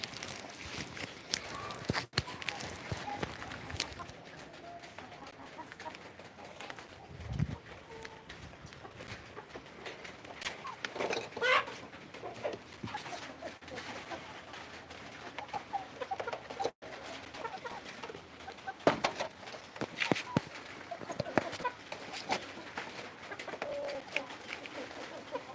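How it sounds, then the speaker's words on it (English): Backyard birds being fed give scattered clucks and coos, soft and intermittent over a long stretch of outdoor ambience with occasional rustles and knocks. "Okay, let's go and feed some of these to the birds."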